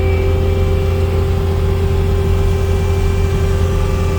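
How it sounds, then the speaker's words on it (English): A snow blower's small engine is held at high RPM, a loud, steady mechanical drone with a strong low hum that keeps an even pitch throughout, with no voices. "Turn my RPMs up."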